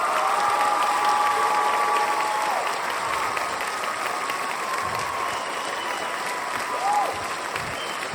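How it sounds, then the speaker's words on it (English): An audience gives a sustained round of applause at a talk honoring a speaker, steady dense clapping that fills the room from start to finish, with faint voices and whistles underneath. "an Earthkeeper round of applause to honor David Hatcher Childress"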